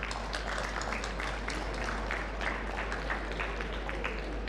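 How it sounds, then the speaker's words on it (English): A district assembly audience applauds steadily, a dense wash of many hands clapping at once that holds an even level from start to finish, with a low constant hum underneath. "I think they all need a round of applause."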